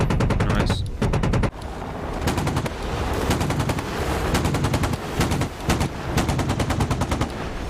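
Rapid bursts of gunfire ring out in a naval battle video game, loud repeated automatic volleys in several clusters with brief pauses between them.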